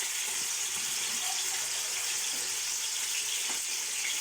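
Onions frying in hot oil in a home kitchen, giving a steady, even sizzle with faint bubbling throughout, close and moderately loud, with no talking.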